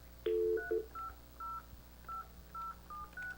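Telephone keypad tones sound as a number is dialed: one longer opening beep followed by about seven short, evenly spaced tones, clear and alone over faint background hiss.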